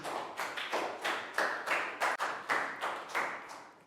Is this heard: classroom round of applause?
yes